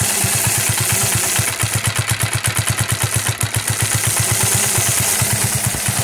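Close, loud idle of a Phatmoto motorized bike with an AR Sports flared trumpet exhaust and baffle, a rapid steady chug of pulses that briefly tightens and picks up slightly midway before settling back to an even beat.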